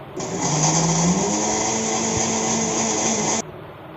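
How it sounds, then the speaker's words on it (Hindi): A kitchen mixer grinder grinding sugar into powder whirs loudly and steadily for about three seconds, then cuts off abruptly. "और मिक्सी में मैंने है ना यहाँ पे चीनी को पीसा है"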